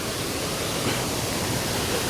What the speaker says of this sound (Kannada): ಎಷ್ಟು ಸಕ್ಕದಾಗಿ ನೀರು ಸಕ್ಕದಾಗಿ ಬರ್ತಿದೆ ಗಾಯ್ಸ್